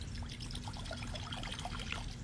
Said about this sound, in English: then you add your water in for the base